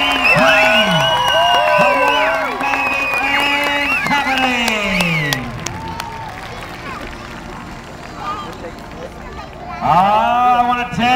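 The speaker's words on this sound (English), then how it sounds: "How about a round of applause for Lynn Payne?" A rodeo crowd applauds and cheers for cowboy Lynn Payne, loud dense clapping with whoops mixed with voices, easing off midway and swelling again briefly at the end.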